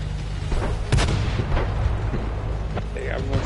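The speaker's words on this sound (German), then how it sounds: "Ey, was soll das für ein Schuss?" A tank cannon firing in the World of Tanks video game, a loud booming shot near the start of a busy battle soundscape with further distant reports and game noise.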